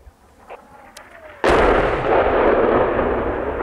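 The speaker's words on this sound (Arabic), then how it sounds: "قصف مدفع من الحواجز التابع لميليشيات النظام على مدينة اللطامنة بريف حماة الشمالي، والدخان يتصاعد" Artillery shell impacts on the town of Al-Lataminah in rural northern Hama, shelled by regime checkpoints: a sudden loud blast after faint earlier thuds, followed by a long rumbling roar that slowly fades.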